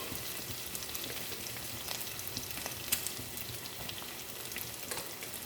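Steady, moderate sizzle of shallots and green chillies sautéing with curry leaves and salt, with faint crackles and pops, continuous throughout with no voices.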